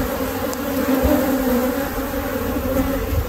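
Honeybees buzz steadily in an open beehive being split with supersedure queen cells. The hum is close, loud and continuous, with no voices.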